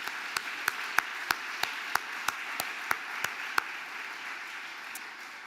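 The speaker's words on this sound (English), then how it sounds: "So will you join me in a round of applause for those who make this evening possible?" An audience at the Golden Goose Award ceremony applauds, a sustained, moderately loud wash of clapping with scattered distinct sharp claps over about five seconds, fading slightly at the end.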